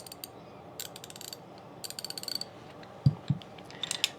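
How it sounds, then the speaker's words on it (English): Old 3/8-inch drive round-head ratchets clicking in quick rattling bursts, close and clear, with a couple of heavier knocks near the end. "All round heads, all pretty good ratchets."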